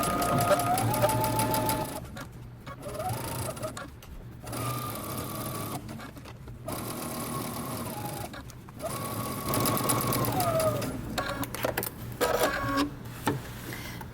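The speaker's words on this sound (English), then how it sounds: "Now we're going to sew using 5/8 of an inch seam allowance" A sewing machine stitches a jeans seam with a 5/8-inch seam allowance, running in several steady motor bursts with short pauses between them, close and clear with no talking.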